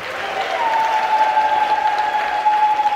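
A church congregation in Tanzania applauds and ululates to welcome a visiting priest before Mass, with sustained clapping from the crowd and a high, steady ululating trill riding over it the whole time.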